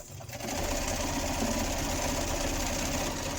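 A sewing machine stitches quilting lines across a patchwork notebook cover, a steady, close, continuous mechanical whir that runs unbroken after a brief start.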